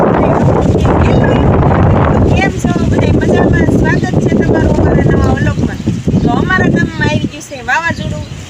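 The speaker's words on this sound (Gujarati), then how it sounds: "ઠંડો મસ્તીનો પવન આવે છે" Cool wind blows across a rooftop after rain in stormy weather, buffeting the microphone steadily while a person talks over it.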